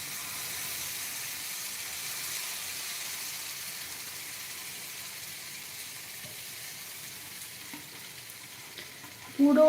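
Oil sizzles in a pan as a steady, soft frying hiss, fairly faint and even throughout, with a sharper sizzle bursting up near the very end as something is added.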